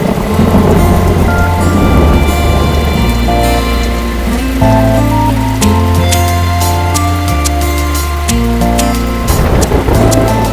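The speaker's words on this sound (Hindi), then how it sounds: "बाहर बारिश भी हो रही है।" Steady rain falls outside, a dense continuous hiss under loud sustained music, with no talking.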